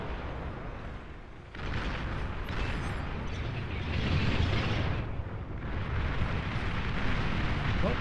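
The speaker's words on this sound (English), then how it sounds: "So this is an excellent bombing run right here." Bombers in the strategy game Beyond All Reason drop bombs in a continuous rumbling barrage of overlapping explosions that builds after a brief dip. The blasts stay dense and loud throughout.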